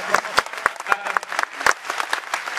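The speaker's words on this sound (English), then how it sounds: "please applaud" A convention crowd at a Star Trek Las Vegas 2019 panel gives loose, scattered applause: distinct sharp claps in an uneven rhythm, moderately loud, for a few seconds.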